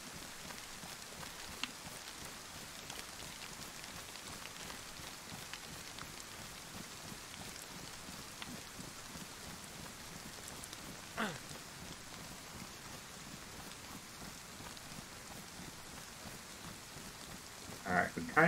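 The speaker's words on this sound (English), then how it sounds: "rain sounds so real in this thing" Rain in the video game DayZ, a steady soft hiss of falling rain and drops on surfaces that continues evenly, with a brief rustle and a few sharper knocks near the end.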